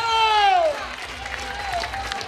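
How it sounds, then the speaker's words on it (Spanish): An audience applauds at a community foundation event for older adults. A voice speaks over the opening, then the clapping carries on at a moderate level. "Fuerte el aplauso para la señorita Respeto"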